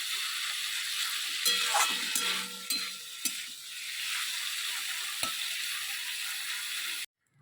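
Prawns fry in hot oil in a kadai, a steady close sizzle with scattered clinks and scrapes of stirring, cutting off abruptly near the end.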